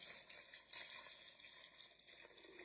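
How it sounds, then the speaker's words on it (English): Tap water runs steadily into an empty plastic pitcher in a kitchen, a faint continuous hissing splash with no talking. "I'm filling up my empty tea, Kool-Aid, whatever pitcher, and I'm filling some water in here."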